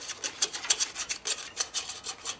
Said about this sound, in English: it gives me the same kind of scraping noise.